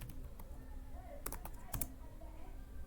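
Quick bursts of keystrokes on a computer keyboard as a web address is typed into a browser, a few short clustered clicks close by over a low background hum.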